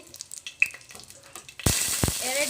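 Fennel seeds and a bay leaf hit hot oil in a pan for biryani rice, a sudden loud sizzle bursting up after quieter kitchen clatter and small knocks.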